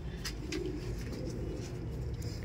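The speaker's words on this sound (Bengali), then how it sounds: "এটা আমার পায়রা।" A pigeon coos softly in a loft over a steady low background hum, with faint chirps scattered through.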